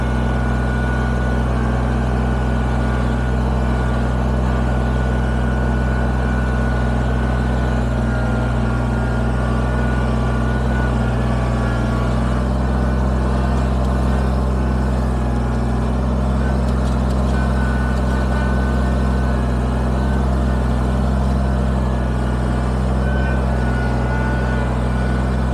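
A Kubota BX23S compact tractor carrying a full bucket load of stone drones with a steady, loud low diesel engine hum that stays constant throughout, with no talk over it.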